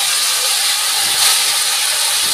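Small pabda fish dropped into hot, cooked-down mustard masala sizzle with a steady, bright hiss that stays loud and even throughout, with no voices over it.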